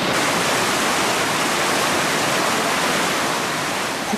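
A waterfall in Israel pours into a flowing forest stream, a loud continuous rushing roar of water that stays even and unbroken throughout, with no talking.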